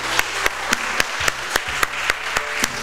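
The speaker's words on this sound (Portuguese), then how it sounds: "a salva de palmas agora." A church congregation gives a round of applause after a benediction, a small group clapping in a steady rhythm of about three claps per second, close and clear for a few seconds.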